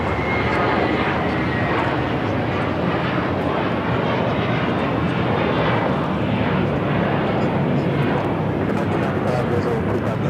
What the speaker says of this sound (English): This is JetBlue 524 taking off to JFK on the A321.